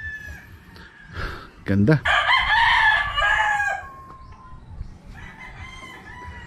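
A rooster crows loudly nearby while chickens cluck around it on a backyard farm, with a person speaking briefly in the background.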